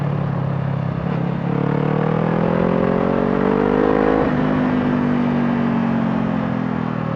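A Honda CBR 500 motorcycle engine on a race track, a loud close steady drone whose pitch climbs, dips briefly and carries on as the bike rides, with no talking.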